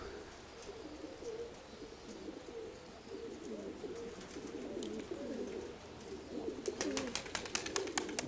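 Pigeons coo softly and repeatedly in low, throaty murmurs, with a burst of wing flapping near the end.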